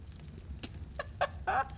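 A pet bird in Garry's Mod sandbox gives a few short, separate clucks, chicken-like and moderately close, over a low background hum.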